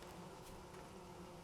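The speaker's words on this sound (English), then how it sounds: "So as you walk through, you can probably hear it right now, the buzzing sound of bees." Bees buzzing somewhere up in an oak tree in the video game Vintage Story, a faint, steady insect drone that holds constant through the short moment with no talking.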